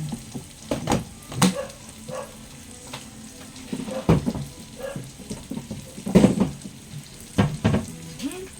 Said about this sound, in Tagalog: hayaan lang natin siyang talsik-talsik ang mantika dyan